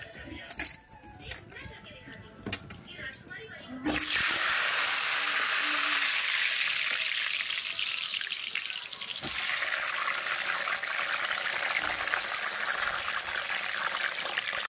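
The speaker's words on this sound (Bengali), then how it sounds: "আলুগুলো ভাজা করব, তেল দিয়ে দিয়েছি কড়াইতে" Potatoes seasoned with salt and turmeric drop into hot oil in a wok and set off a sudden loud, sustained hiss and sizzle, after a stretch of clattering kitchen handling.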